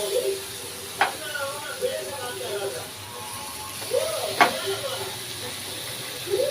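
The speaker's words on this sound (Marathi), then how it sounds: "छान अशी आपली मिरची फ्राय झाली आहे तेलामध्ये आता दोडका असा आपण टाकून घेऊ" Ridge gourd drops into hot oil with already-fried green chillies, giving a steady sizzling hiss with a couple of sharp spits as pieces land, while a person talks over it.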